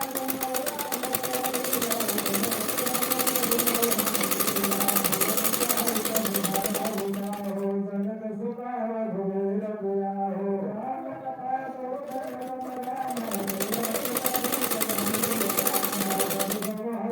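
Sewing machine running steady straight stitches along the lower edge of a blouse, a close continuous motor whir that softens briefly midway before picking back up.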